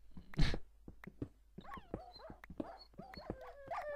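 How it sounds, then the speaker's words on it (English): A dog in the Minecraft video game whimpers and yips in a series of short, high, wavering cries after one louder yelp, fairly faint and with no talking over it. "My dogs are dying. Why? Why are my dogs dying?"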